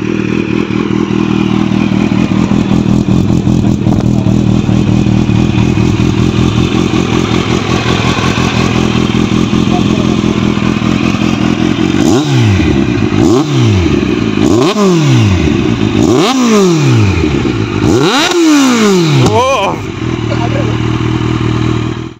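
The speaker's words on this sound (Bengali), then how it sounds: "এবার তোমাদেরকে একবার বাইকটার পুরো এক্সহস্ট সাউন্ডটা শুনে দিচ্ছি।" Kawasaki Z900 superbike exhaust at a loud steady idle close by, then a series of four or five sharp throttle blips that rise and fall quickly in the second half.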